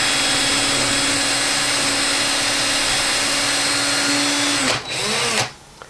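Saw blade cutting thin horizontal cork rings, a loud steady whirring drone that holds for several seconds, then dips briefly and winds down near the end.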